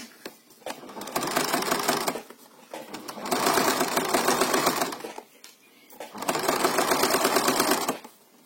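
A sewing machine stitches a fabric face mask in three steady whirring runs, each several seconds long, separated by short pauses as the fabric is turned.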